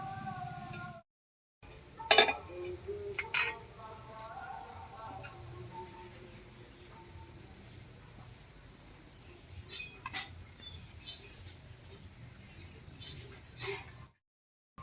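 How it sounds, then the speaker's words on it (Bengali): Cooked ash gourd leaves ground on a stone slab with a shil-nora: soft, steady rubbing and scraping broken by occasional sharp clacks of stone on stone, close by and fairly quiet. "এবারে বেটে নিচ্ছি"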